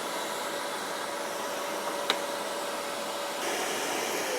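Festool dust extractor running steadily in a workshop with a crosscut fence setup, a constant broadband whoosh with one sharp click partway through and a slight shift in tone near the end.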